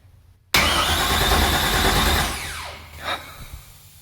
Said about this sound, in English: I would like to know if this engine's even gonna turn over